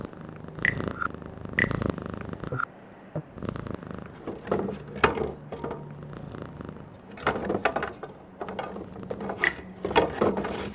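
Cat purring in a video game, a close rhythmic rumbling purr repeating in pulses for several seconds along with light clicks and soft ambient sounds.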